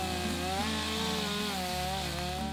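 A chainsaw runs steadily while carving wood, a loud continuous whining engine drone with slight pitch shifts as the cut load changes, close by and with no talk over it.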